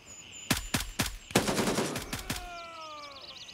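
Gunfire in the military shooter game Gray Zone Warfare: a few sharp single shots, then a quick burst of rapid automatic fire, loud and close, followed by ringing tonal echoes and a fading tail.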